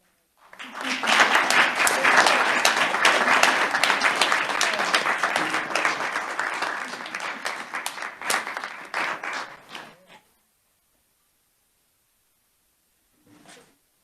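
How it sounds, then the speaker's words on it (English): Members of a state House committee hearing give a standing round of applause, sustained for about ten seconds before stopping abruptly into silence, followed by a faint brief thump. "Committee, let's stand and give them a round of applause."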